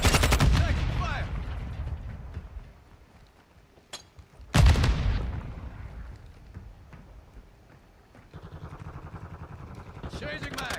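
Gunfire from a Call of Duty Modern Warfare II multiplayer match, with a Kastov-74u rifle, bursts and sharp shots opening loud, a heavy blast midway, then quieter rattling fire under game voice callouts.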